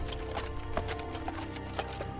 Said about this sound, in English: The gentlemen get off their horses in front of the mansion.